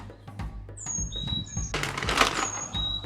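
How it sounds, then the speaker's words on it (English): Several birds sing outdoors on a spring day at a farm garden, with clear whistled notes and chirps from different directions over soft rustling and faint background noise. "you have all these birds singing these beautiful songs"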